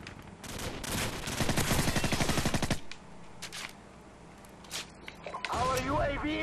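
Rapid automatic gunfire from Call of Duty 4 on the Backlot map roars in a long, dense burst, then drops to scattered, quieter shots and ends with a renewed loud volley.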